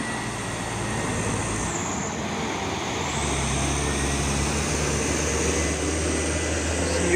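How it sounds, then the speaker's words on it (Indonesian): Hino trailer truck, a Euro 4 rig, rumbles past on the road with a steady low engine drone and broadband road noise, continuous and fairly close, with no talking. "Ada satu nih truk trailer Hino Jember ini ya"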